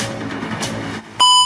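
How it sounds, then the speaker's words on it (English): A phone ringtone suddenly begins with loud, steady electronic tones after a brief lull in a room full of background noise. "Sorry, that's my ringtone."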